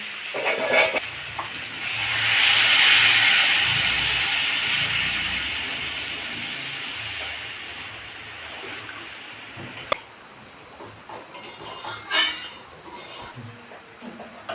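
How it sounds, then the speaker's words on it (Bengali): Water poured into a hot pan of cooked spices for a katla fish and potato curry sets off a loud sizzling hiss that swells, then slowly fades to a softer simmer, with faint clatter near the end. "এবার আমি জল দিয়ে দিই"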